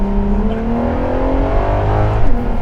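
A Ferrari LaFerrari hypercar engine revs hard toward 9,000 rpm, a loud, close, rising mechanical wail with climbing harmonic tones that builds steadily, alone without any voices.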